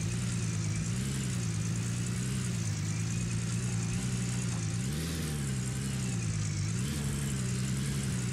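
A vehicle engine drones steadily in the Gold Rush video game while reversing, a loud, continuous mid-pitched hum with slight swells in revs and no talking.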